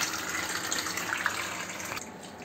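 Water pours steadily into a cooking pot holding jaggery (gur) for a sweet kheer, a continuous close gushing splash like a tap filling a vessel, easing slightly near the end.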